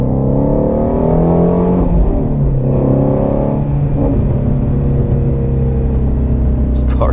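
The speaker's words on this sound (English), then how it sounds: "And then you add in the engine, that flat plane crank V8." A Shelby GT350R's flat-plane crank V8 engine pulls hard from inside the car, its loud rumbling tone rising in repeated surges as it revs up, then easing and climbing again.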